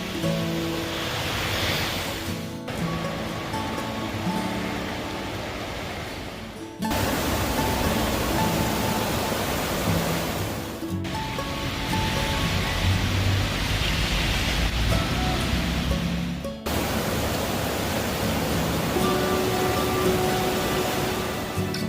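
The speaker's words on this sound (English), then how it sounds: "This river raging was no joke." Raging river swollen by the 2020 floods in the Pigeon Forge and Gatlinburg area, a constant loud broadband rush of churning water heard in several cuts with no talking.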